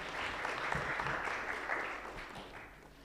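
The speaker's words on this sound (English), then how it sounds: "A hand of applause again" Symposium audience on maternal and child nutrition gives a round of applause after a presentation, a dense crowd clapping that holds steady, then slowly tapers off.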